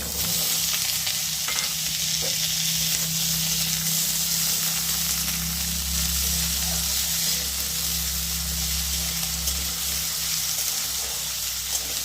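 Diced potatoes fry in hot oil for a Bengali jhinge aloo posto with ridge gourd, a steady close sizzle with occasional stirring scrapes and no talk.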